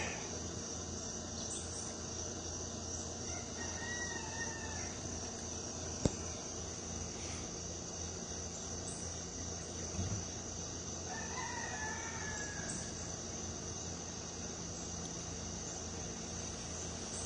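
A rooster crows twice in the early-morning outdoors, a few seconds apart at moderate distance, over a constant high buzz of crickets and insects, with one brief sharp knock partway through.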